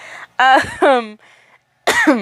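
A few harsh coughs in quick succession, close and loud, followed by a pause and then one more cough burst.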